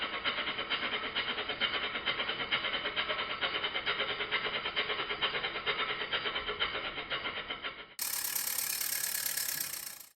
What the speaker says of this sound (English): Engine number 23, a Bassett-Logue Tangi model steam engine.